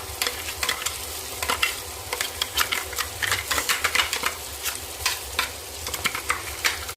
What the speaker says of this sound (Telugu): ఇలా వేగిన తర్వాత మసాలా ముద్ద అయితే వేయించుకోవాలి పచ్చివాసన పోయేలాగా.